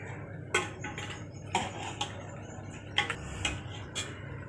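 A spoon clinks and scrapes against a pot while stirring beef karahi with tender cooked meat, giving a series of close, sharp metallic knocks spaced about a second apart over a low background hum.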